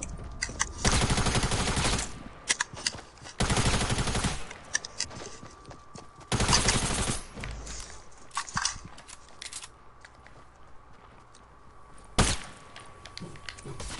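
Video game SMG fire from a TAC SMG: several loud, rapid bursts separated by pauses, with a final short burst after a quieter gap, ringing close and alone without talk.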